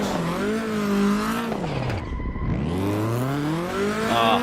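Drifting in the racing game Assetto Corsa: a loud, continuous tire squeal with wavering engine revs, dipping briefly in the middle before swelling again, with no voices.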